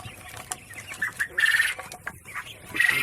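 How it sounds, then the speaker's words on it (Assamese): Japanese quails on a farm chirp and call in short, repeated bursts, several birds overlapping at moderate distance with soft background rustle. "এইখিনি জাপানীজ কোৱেল"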